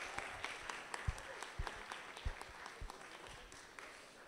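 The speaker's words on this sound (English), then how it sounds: "So big round of applause, please, for Epic Global and Virgin Media." Audience applause at the Virgin Media League of Ireland awards finals, a faint, scattered clapping heard from a distance, with a few sharper individual claps standing out over a soft background.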